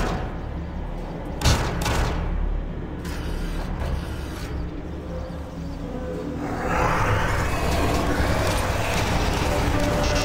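Gunfire in the game Doom 3 during co-op play: several sharp shots early on, then scattered bursts and mechanical clanks, followed by a denser stretch of rapid fire under a continuous noisy background.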